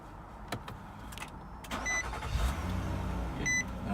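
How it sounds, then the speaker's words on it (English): A 2014 Nissan Murano CrossCabriolet starting up: a few clicks and thumps, the starter engaging, and the engine catching quickly into a low idle, with short electronic chimes sounding in the cabin. "listen to the starter, how it engages, and also how quickly it starts"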